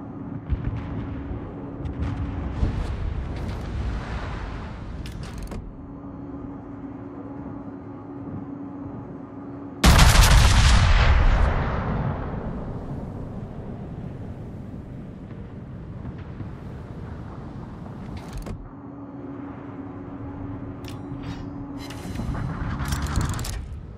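Battleship main guns fire in the naval combat game World of Warships, with a heavy broadband boom and a decaying rumble midway over a constant engine drone and ambient game sound, loud and close.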